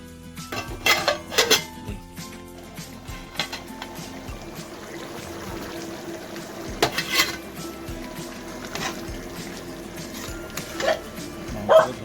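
A lid goes onto a pot of chicken curry with curry leaves and potatoes simmering on the stove, with clinks of metal cookware and utensils scattered through a quiet kitchen and no talk.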